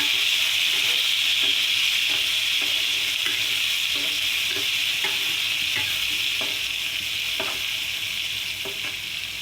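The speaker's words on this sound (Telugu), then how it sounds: "నూనె అయితే వేడెక్కిందండి. ఇందులో వేసేసుకుంటామే." Stuffed brinjal fries in hot oil, a loud, steady close sizzle running throughout, with intermittent scraping taps of a spoon stirring the pan.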